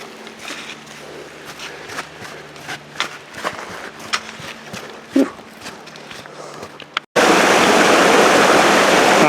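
Creek water rushing at a trail crossing on snowy Mount Hood, a steady close broadband wash that jumps suddenly louder near the end as the stream is approached, with footsteps and scuffing over it beforehand.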